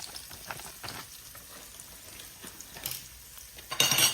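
Curry frying in a pot for turkey wings, a steady soft sizzle with faint stirring and scraping, ending in a louder burst of hissing.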